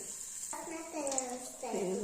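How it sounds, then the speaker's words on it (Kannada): Ginger garlic paste sizzling in hot oil in a pressure cooker, a bright steady crackle that is briefly joined by clinks of stirring, close and moderately loud. "ಸ್ವಲ್ಪ ಎಣ್ಣೆ ಮತ್ತು ಜಿಂಜರ್ ಗಾರ್ಲಿಕ್ ಪೇಸ್ಟ್ ಹಾಕೊತಾ ಇದ್ದೀನಿ"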